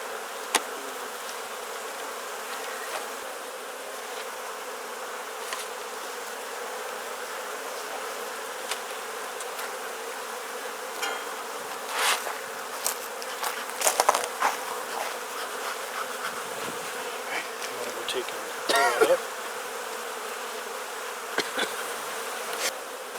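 Honey bees hum steadily and continuously around an open Langstroth beehive during an outdoor hive inspection, with a few louder buzzes as individual bees fly close past.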